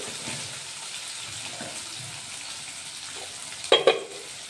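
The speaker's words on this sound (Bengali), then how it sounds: "আলু যেটা ফোড়ন দিয়ে আলুটা দিয়ে দিই, তারপরে সামান্য একটু হলুদ দিয়ে" Potatoes fry in oil tempered with whole spices and a little turmeric, a steady soft sizzle running throughout, with a brief louder clatter of stirring near the end; no talking.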